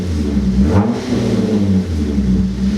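A Hyundai Genesis Coupe engine and exhaust rev, producing a loud, steady low rumble with a brief swell near the start, heard up close and alone without talk.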